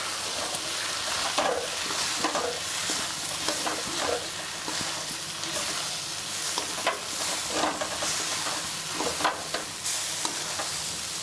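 Cut boiled eggs tossed with masala powder stir-fry in a hot pan, a dense, steady sizzle close by with repeated soft scraping strokes of a spatula at an uneven rhythm.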